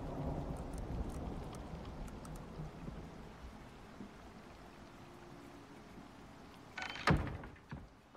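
Game thunderstorm with a heavy low rumble and rain fading away, then a sudden crack of thunder near the end, fairly faint overall with no talking.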